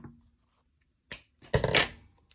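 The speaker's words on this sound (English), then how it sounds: "Then you're going to take your scissors. You're going to cut this piece off that you were wrapping with." Scissors snip through a pipe cleaner while a sword craft is made, a couple of short close cuts followed by a brief rustle, otherwise quiet.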